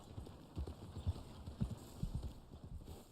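Steady clip-clop of a Black Arabian horse's hooves at a walking rhythm in the video game Red Dead Online, close and moderately loud, with a faint background ambience and no talking.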